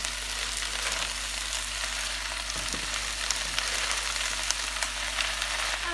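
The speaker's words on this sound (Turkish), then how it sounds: "Şimdi içerisine ıspanaklarımızı ilave edelim." Spinach sautés in a hot pan for a gözleme filling, giving off a steady, close sizzle with faint crackles and an occasional scrape of stirring.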